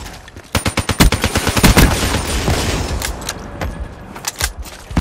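Rapid rifle fire from the Man o' War in Black Ops 3 multiplayer rattles out in loud bursts of closely spaced shots, with a few scattered single shots and distant battle noise after the main volley.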